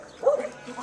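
A pregnant dog gives a short yelping bark, a single close vocal burst that trails into a whimper-like tone.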